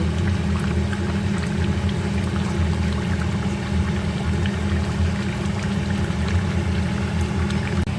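Prawn and potato curry bubbles in a pan with a loud, steady, low simmering rumble and burble that continues without a break from start to finish.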